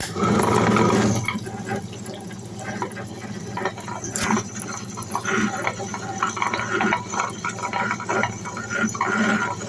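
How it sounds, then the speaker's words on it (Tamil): A wet grinder grinds soaked batter for idli and dosa with a steady, loud mechanical churning hum and wet, sloshing grinding texture, running continuously without talk. "இப்போ கிரைண்டர் ஆன் பண்ணிடலாம்"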